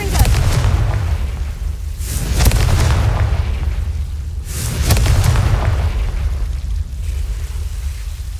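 Confringo spell blasts in the video game Hogwarts Legacy, loud booming explosions that burst out repeatedly at roughly two-second intervals, each trailing off into a rumbling decay.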